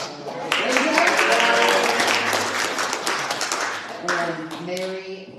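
A small church congregation at a Sunday service applauds in a burst of clapping that fades, then picks up briefly again, with voices talking over it.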